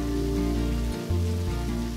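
Steady rainfall patters on a surface under a low, sustained musical drone, with a brief dip in the middle before the downpour continues.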